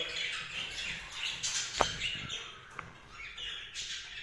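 Pet birds in a breeding cage chirp and twitter near at hand, with quick tweets, a sharp squawk and a few rustles throughout.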